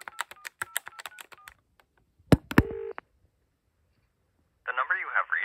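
Telephone touch-tone dialing on a line with an automatic intercept system run by a microcontroller, a quick series of short DTMF beeps followed by clicks, a brief tone and then a recorded voice beginning.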